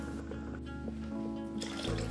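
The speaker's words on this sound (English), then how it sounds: "Add in 3 cups of beef stock," Beef stock poured into an Instant Pot, a close liquid splashing and trickling that swells toward the end as the stream fills the pot, with no voices.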